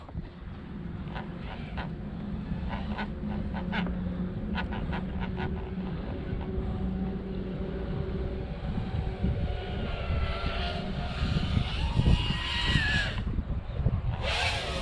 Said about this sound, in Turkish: Drone kendinden nefret ederek uçuyor.